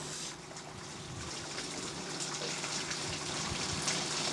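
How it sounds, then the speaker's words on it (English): Hot water runs steadily into a Bambini ice resurfacer, a continuous rushing, trickling stream heard close and fairly quiet, with no talking. "by filling it with hot water."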